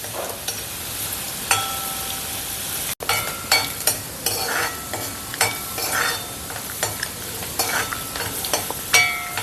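Ginger sizzling steadily in hot oil in a pan while being stirred for onion theeyal, with spoon scrapes and clinks scattered throughout, close and continuous.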